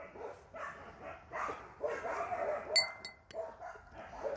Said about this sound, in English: sorry about all that barking. A lot of dogs in this neighborhood